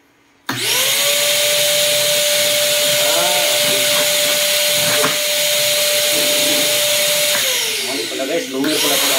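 A newly assembled vacuum cleaner switches on abruptly and runs with a loud, steady whine and rushing airflow, pitch holding level before dropping as it winds down near the end.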